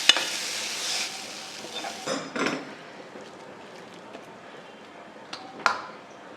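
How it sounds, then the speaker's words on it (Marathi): Spice paste being stirred into potatoes in a pan for spicy kat vada, with scraping and stirring strokes, a soft sizzle and a few sharp utensil knocks against the pan, close by. "आता आपण हे वाटण बटाट्यात घालू."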